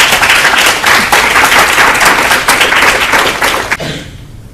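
Audience applause for a panel of speakers rises loud and close as a dense burst of many hands clapping, holding steady for a few seconds before tapering off quickly.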